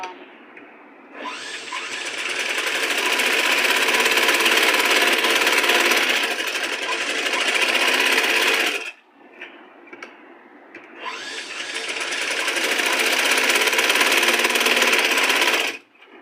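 A sewing machine stitches fabric for invisible piping in two long, loud, close bursts of rapid whirring, separated by a short pause.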